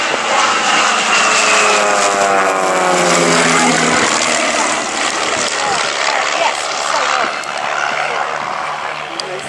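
Propeller aeroplanes powered by 180 horsepower Lysander engines roar past loudly at an airshow display, the engine drone sweeping in pitch as they fly by, then a steady, fading rumble.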